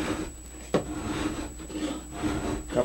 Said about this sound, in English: I'm going to start filing, and I'm just going to start easy